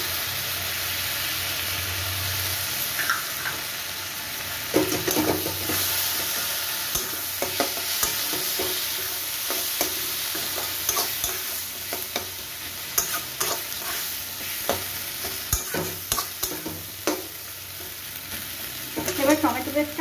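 Ginger, cumin and green chili paste fries in a pan with a continuous sizzle, broken by repeated scrapes and clacks of a stirring utensil, close and steady with no talk.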